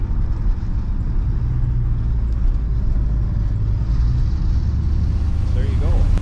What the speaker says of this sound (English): Nice running car.